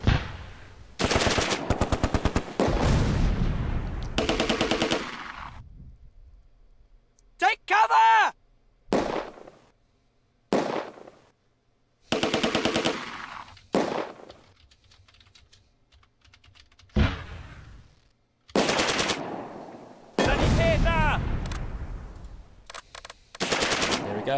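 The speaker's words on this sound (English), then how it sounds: "Now we get this machine gun out" Bursts of machine gun fire from the World War II strategy game Close Combat 2: A Bridge Too Far ring out in repeated sharp rattling volleys separated by pauses, loud and close.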